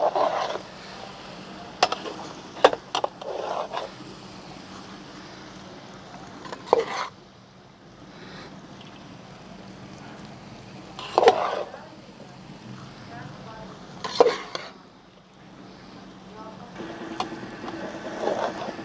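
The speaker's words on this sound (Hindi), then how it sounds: "चावल ऐड करके इसको मिक्स करेंगे" Rice is stirred and mixed in a pan for Chinese-style fried rice, with scattered scraping knocks of a spoon against the pan spaced across the stretch over a faint steady background hum.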